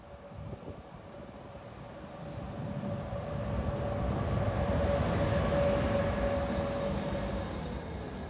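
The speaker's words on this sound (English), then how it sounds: "Train." Vy Nattåg overnight Arctic Circle train running toward Narvik, a steady low rumble of wheels on rails heard from inside the carriage, with a faint sustained whine, gradually swelling slightly louder and continuing throughout.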